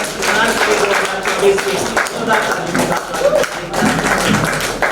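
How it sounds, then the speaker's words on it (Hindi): Audience clapping for the cast and crew after a comedy stage play, steady dense applause with scattered taps and thuds, loud and close, continuing for several seconds without a break. "एक जोरदार ताली बजा दीजिए"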